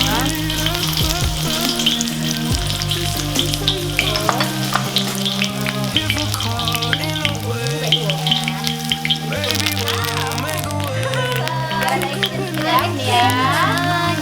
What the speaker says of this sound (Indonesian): Kalau udah panas, kita masukin bawang merah rajangnya.